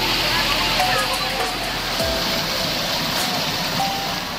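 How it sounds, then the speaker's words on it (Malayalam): Monkey Falls waterfall near Coimbatore, Tamil Nadu: a steady, loud broadband rush of falling water fills the whole clip, with a brief low thump partway through. "എന്റെ പുറകിൽ നല്ല അടിപൊളി വെള്ളച്ചാട്ടം കാണാം."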